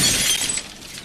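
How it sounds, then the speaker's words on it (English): A stylish glass coffee table shatters after a fall from a 20-story building, a loud burst of breaking glass that decays into scattered tinkling over about a second. "Now a stylish glass coffee table."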